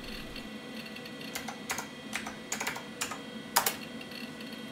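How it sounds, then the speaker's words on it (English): Clicky keyboard typing on an old 386 PC, a quiet run of crisp key taps in uneven bursts over steady computer fan and hard drive hum, with no voices. "The clicky keyboard and the hard drive doing its thing"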